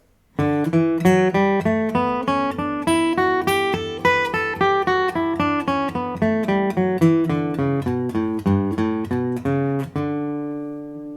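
A guitar plucks a steady run of single notes climbing up a major scale in one CAGED position and back down, evenly paced, clean and close, ending on a held low note.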